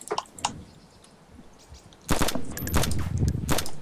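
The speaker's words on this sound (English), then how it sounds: "You shooting him, Ryan?" Gunfire in a first-person shooter game, including a sawed-off shotgun: a lone loud shot early on, then a dense run of sharp shots and bursts through the second half, with no talk over it.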